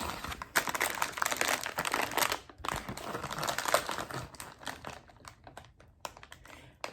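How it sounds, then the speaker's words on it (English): Tape strips are pulled off a chip bag template, giving close, crackly peeling and crinkling noises in uneven bursts. The sound is dense at first and becomes sparser toward the end. "you want to go ahead and pull your tapes off"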